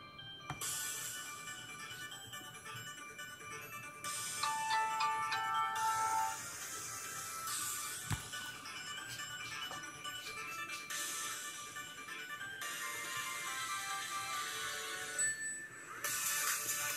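A Verizon phone ringtone playing for a long stretch, an electronic tune in shifting sections, fairly close and clear with no talking over it.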